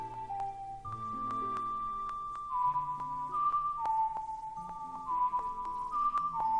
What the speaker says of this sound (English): Like, seriously, that's not a very loud whistle.